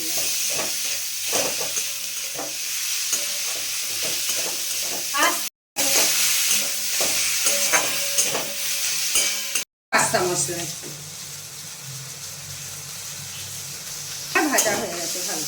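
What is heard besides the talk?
tomatoes and vegetables frying on low heat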